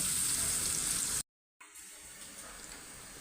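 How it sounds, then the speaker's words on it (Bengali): Chopped onion hits hot oil with a loud, bright hiss that cuts out abruptly for a moment, then returns as a quieter, steady sizzle in the pan. "এখন দেব আমি পেঁয়াজ কুচি এই পেঁয়াজটা আমার বাদামি কালার হবে"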